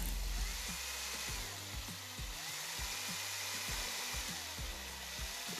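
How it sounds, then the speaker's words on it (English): A power drill bores a hole for a homemade lung model, giving a steady whirring grind with faint rhythmic knocks underneath, fairly quiet and with no talking. "we're gonna take a drill or a pair of scissors, we're gonna cut a hole right down here into this."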